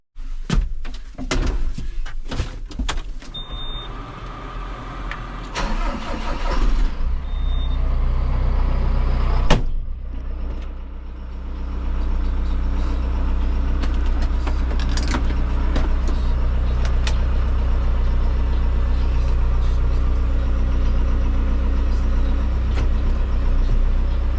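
A tractor on a farm starts up while doors bang and clunks sound at the start, then its engine settles into a loud, steady diesel rumble as it moves off to hook up a spreader, continuing without a break, with no voices.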